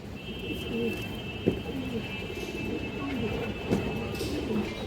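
A pair of Bagha pigeons coo in a loft, low rolling calls repeating steadily across the whole stretch, close and moderately loud, with a couple of brief sharper knocks and a faint steady whine behind them.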